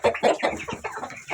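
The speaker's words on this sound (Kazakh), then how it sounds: "Кешегі 2 балапан ашып шыққан тауық міне." A domestic hen with two newly hatched chicks clucks in a quick series of about half a dozen short, close, fairly loud bursts, with no one speaking.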